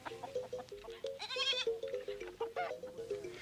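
Goats bleating repeatedly on a Baoulé farm in the Ivory Coast, several close, wavering cries in quick succession over a busy rhythmic background.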